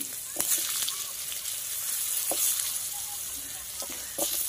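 Potatoes hit hot oil seasoned with panch phoron and green chilli, giving a loud, continuous close-up sizzle with a few sharp pops and stirring knocks; nobody speaks.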